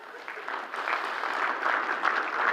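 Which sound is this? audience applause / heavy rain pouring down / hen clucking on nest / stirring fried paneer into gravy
audience applause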